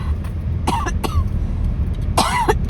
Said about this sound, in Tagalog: Ako'y inuubo.